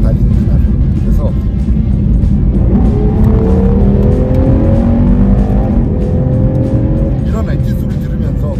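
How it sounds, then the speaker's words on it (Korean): A Ferrari Purosangue's engine drones loudly and continuously while being driven in New Zealand, with a rising, revving tone climbing midway and a voice talking over it throughout. "이런 엔진 소리 들으면서 달릴 수 있는 날을 한번 기대해 보려고 합니다"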